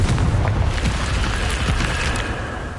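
A Confringo fire spell erupts in the Hogwarts video game, giving a loud, rumbling blast that starts heavy and slowly fades over a few seconds with crackling debris.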